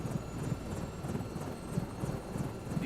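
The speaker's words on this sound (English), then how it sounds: "Just shut off the engines here." Helicopter engines winding down in Microsoft Flight Simulator 2024 during an oil rig delivery, a steady rotor chop and turbine whine, moderately loud with a rhythmic beat.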